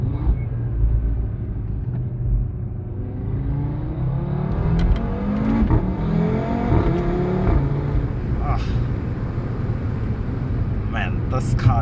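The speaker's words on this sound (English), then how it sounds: "Oh, this thing launches so aggressively." A 2017 Audi RS3 8V with a 400 hp engine and S-tronic gearbox launches and accelerates hard, the engine and exhaust rising in pitch through several gear changes, heard loud from inside the cabin.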